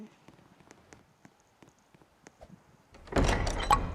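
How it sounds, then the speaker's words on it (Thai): A door opens in a survival video game, a burst of sliding, rattling noise near the end after quiet, sparse clicks and taps. "สร้างครับ โอเค เปิดประตู"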